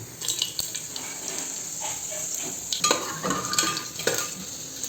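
Whole cumin, cloves, cinnamon, cardamom, bay leaves and dried red chilies sizzle in hot oil in a pan for tari wali chicken. A spoon stirs and scrapes over a steady, close frying hiss, with no talking.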